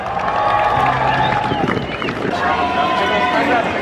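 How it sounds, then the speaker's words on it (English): A large crowd at a Formula 1 fan event in Australia cheers for driver Valtteri Bottas, a loud, continuous roar of shouts and applause with voices mixed in throughout. "Let's have a cheer for Valtteri as well."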